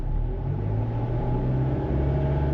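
A Lexus engine held at a steady raised speed around 2,000–2,500 rpm, giving a continuous low rumbling drone with a firm hum that stays even and close throughout, with no talk.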